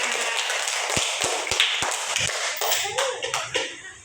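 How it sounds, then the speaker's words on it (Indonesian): A classroom of students claps hands for a classmate's correct answer, with several sharp separate claps near the middle followed by scattered, looser clapping and some shuffling noise, heard fairly faintly. "Beri tepuk tangan."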